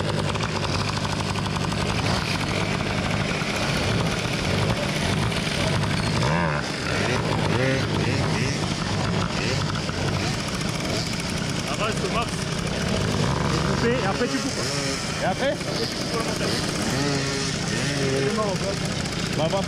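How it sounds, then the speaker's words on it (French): Several moped engines revving hard at full throttle, a dense, loud, continuous buzzing drone up close, with people talking over it. "Au max et après faut couper les moteurs."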